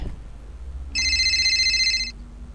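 A telephone rings during a night shift at a clothing shop, sounding as one continuous electronic trilling burst of about a second, loud and fairly close over a low background hum, with no talk.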